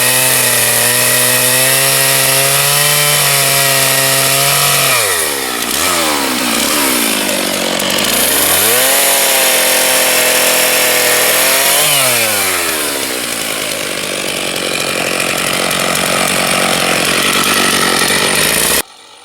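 A chainsaw cuts hard wood to form a furniture dovetail, the engine droning loud and close with pitch sagging and recovering as the chain bites and eases through the cuts, running continuously for nearly twenty seconds.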